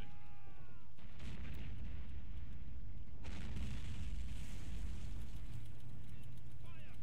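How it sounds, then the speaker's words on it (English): A flak gun firing in the World War II strategy game Men of War Assault Squad 2, heavy booming artillery blasts over a rumbling battlefield background, with a person talking over it. "It's a flat gun shooting at you."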